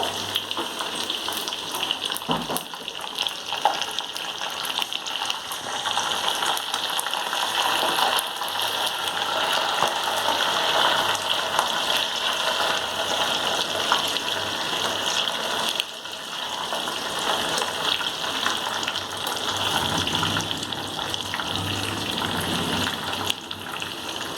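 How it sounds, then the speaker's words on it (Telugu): Curry leaves and chillies fry in tempering oil for a rice rava pulihora, a steady, fairly soft crackling hiss that carries on throughout with no talk. "సో నేను కరివేపాకు కూడా వేసేసుకుంటున్నాను తాలింపులో"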